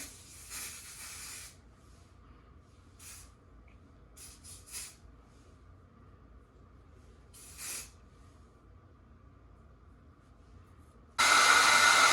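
Several short hissing sprays from a spray bottle, some brief and some longer, separated by quiet gaps, ending in a loud sustained spray.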